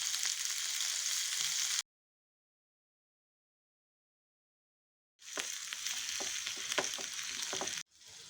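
Onion and tomato sizzle steadily in a hot pan, a bright hissing fry broken by a long gap of silence before it resumes with a few stirring clicks.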